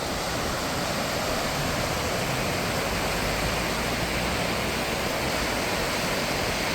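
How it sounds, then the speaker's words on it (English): A river flowing in Costa Rica during the rainy season, a dense, steady rushing wash of water with no change in level, heard close and alone without voices. "Look at this beautiful river."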